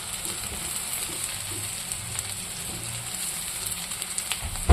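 Fish for a cucumber curry fries in a pan with a soft, steady sizzle and faint crackles, quiet and close, with no talk over it.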